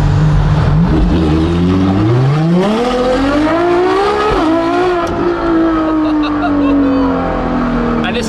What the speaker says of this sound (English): It's so burbly and snappy.